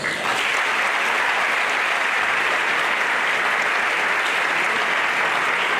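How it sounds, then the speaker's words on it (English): A lecture audience applauds steadily throughout, a dense, sustained wash of many hands clapping at close range with no pauses or talk. "why not to give him the befitting applause?"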